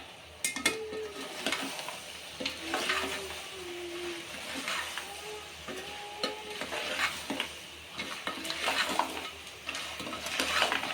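A spoon stirs chopped tomato into goat head curry in a pan: steady scraping strokes against the metal with a soft sizzle underneath, close and alone, with no talking.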